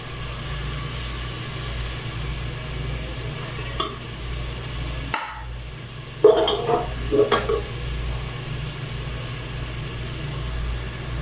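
Onions browning in hot frying oil, a steady broadband sizzle running throughout with a few brief scrapes and stirring clinks near the middle, and a low hum underneath.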